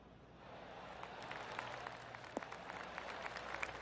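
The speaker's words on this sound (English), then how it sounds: "Oh, I can hear the golf claps around the course." Scattered golf claps rise from a course gallery in PGA Tour 25, a soft, distant patter of applause building and continuing without talk.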